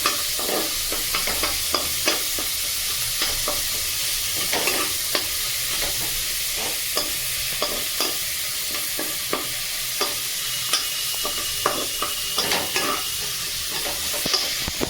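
Close-up stirring of tengra fish curry with bitter gourd in a hot pan: a steady oily sizzle underneath repeated scraping strokes of a spatula at an irregular rhythm, with no voices.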